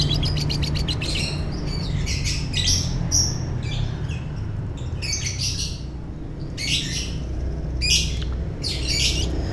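Lovebirds kept by a bird hobbyist give repeated sharp squawks and chirps in irregular bursts throughout, fairly close and loud over a steady low background hum.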